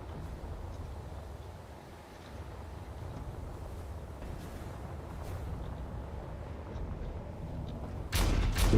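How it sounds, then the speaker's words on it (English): Field cannons fire long-range artillery shots in a Space Engineers battle, heard as a distant, muffled low rumble with soft booms, ending in a sharper, louder blast at the close. "They're already starting to fire long-range shots."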